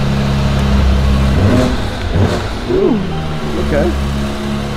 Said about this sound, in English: Let's hear it rev a little bit.